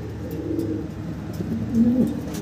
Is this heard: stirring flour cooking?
no